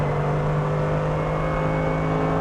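A Mercedes-AMG GT3 race car engine on the Nordschleife holds a loud, steady, droning tone at close range. It is continuous, with no voices.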